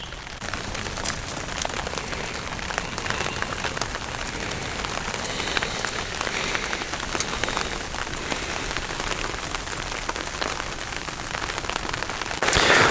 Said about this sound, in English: It's hard to tell, but it is pouring down rain.